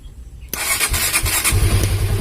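A Honda CB150R motorcycle's electric starter cranks and the engine catches, a sharp onset followed by a loud, steady close-up running rumble with no talk.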